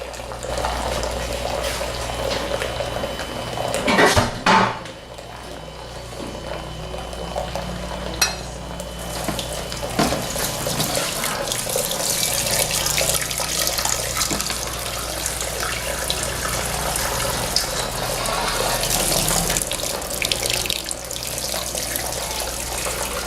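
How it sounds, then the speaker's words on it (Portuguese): Water runs steadily from a tap in a continuous loud hiss while water is added for home beer brewing, with a brief louder splash near the start. "E por isso a gente adiciona mais 5 litros de água a 75, 78 graus."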